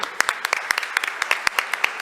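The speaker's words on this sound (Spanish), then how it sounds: "un aplauso" Audience at a judicial offices conference in Neuquén gives a short burst of applause, close and fairly loud, with individual sharp claps in a quick irregular rhythm.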